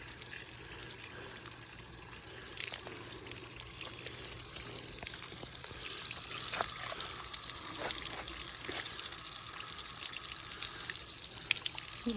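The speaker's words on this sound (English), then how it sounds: "Just went to the water tap." Steady running water from an outdoor campsite tap, a continuous trickling splash with small irregular drips and gurgles, close by and unbroken throughout.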